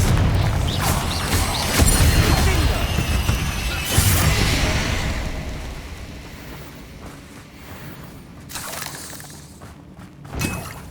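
Confringo blasting spells exploding in combat in Hogwarts Legacy, with loud crashing, shattering bursts near the start and a sharp blast at about four seconds, then fading rumble and a final smaller crack.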